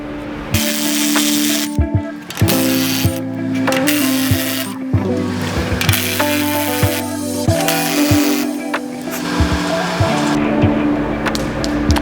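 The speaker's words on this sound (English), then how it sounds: "now we're going to go on the back and loosen all the nuts on the cutting edge" A 15/16 socket wrench loosening the nuts on the back of a poly snow plow cutting edge, with loud repeated ratcheting, clanks and metallic scraping in uneven bursts close by.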